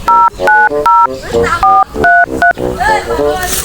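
A telephone keypad sounds a quick series of loud, clean dialing beeps, each a short two-tone burst, about eight in under four seconds.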